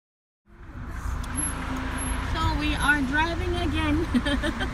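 Car interior road noise as a car drives on after a punctured tire was changed: a steady engine hum and tire rumble starting abruptly, with people talking over it.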